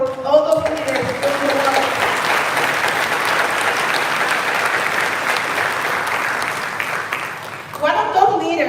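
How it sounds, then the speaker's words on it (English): An audience at an event in San Fernando Cathedral breaks into a long, dense round of clapping that holds steady for several seconds. A speaking voice is heard briefly before and after the applause. "a huge round of applause for all those leaders"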